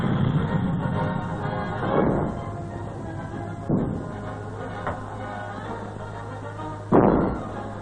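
Deep booming reports from a medium artillery gun of the Royal Australian Artillery, three or four heavy thuds spaced a few seconds apart, the last loudest, over a steady low hum.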